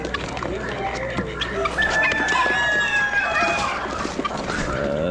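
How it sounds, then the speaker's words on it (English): Guinea fowl call among poultry at an Amish livestock auction, harsh repeated squawks and clucks mixed with rooster-like crowing from nearby birds, over a busy background murmur of people. "Guineas. You can hear the one hen in there."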